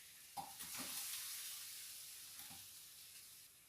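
Onion sizzles softly in a hot pan, a faint steady hiss with a couple of light stirring scrapes, heard alone.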